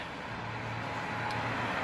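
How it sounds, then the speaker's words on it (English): Steady road traffic noise with a low engine hum, continuous and moderately distant, running throughout without any talk. "The noise of the traffic."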